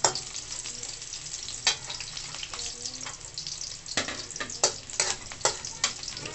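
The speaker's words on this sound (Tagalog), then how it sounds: "Igisa nyo lang siya hanggang sa maluto yung bawang, crispy na siya." Garlic and onion sauté in a pan, a soft continuous sizzle broken by sharp scraping stirs and clinks of the utensil, close and fairly quiet, without talking.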